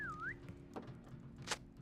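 A short whistle blown in a video game to release a caged bird: one brief bending tone at the start, followed by a few soft thunks and low background game ambience.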